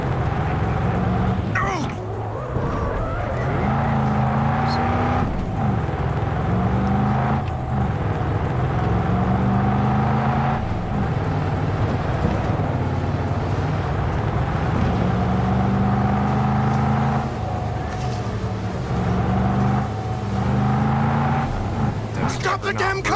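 Video game car engine roaring steadily throughout a drift, its pitch rising and falling in repeated sweeps as the car slides and skids, with people talking loudly over it.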